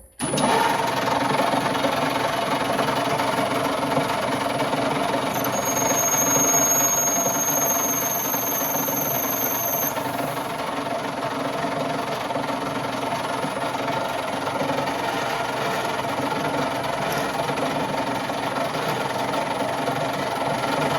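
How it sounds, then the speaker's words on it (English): A lathe drills a hole in a metal bar, giving a continuous dense mechanical whir with a steady hum and a thin high whine partway through, loud and close, without speech. "keep going up the sizes and probably reduce the lathe speed as we go up to the larger bits"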